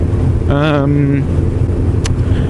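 A motorcycle engine that has been cutting out runs steadily with a low rumble, and a brief rising whine suggests a short rev before it settles back to idle.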